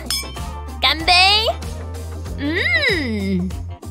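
Glasses clink together in a toast, a couple of bright ringing chimes mixed in among lively voices.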